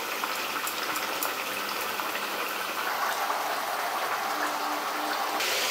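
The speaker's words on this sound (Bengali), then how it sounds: "মিনিট 4 ফুটিয়ে নেওয়ার পর টক মিষ্টি কাতলা তৈরি হয়ে গেছে।" Sweet and sour katla fish curry with slit green chillies bubbles steadily in a pot, a continuous dense hiss and burble close by, even in level throughout and with no talk.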